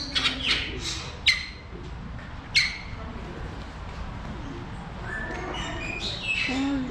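Trumpeter birds at a zoo bird house give loud squawks and shrill calls, with a few sharp close cries standing out over a steady indoor hum and fainter chirps.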